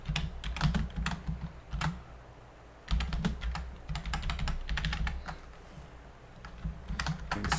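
Typing on a computer keyboard at night, fast bursts of clicky keystrokes broken by short pauses, close and fairly quiet with no voices.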